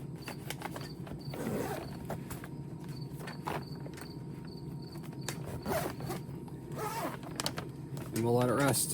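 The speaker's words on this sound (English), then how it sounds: "We zip it up, I should say." A zipper runs shut on a bag holding wrapped beef brisket, a soft scraping pull heard close amid low room noise, with a voice speaking briefly near the end.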